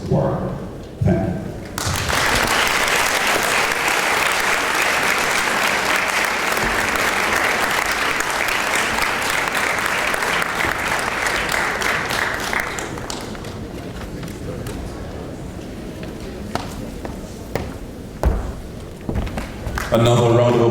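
Audience applause at the opening ceremony of an international policy dialogue forum on teachers, a dense burst of clapping that holds strong for about ten seconds before thinning out to scattered claps with a voice briefly heard.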